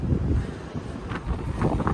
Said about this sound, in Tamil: ஐயோ, என்ன காத்து.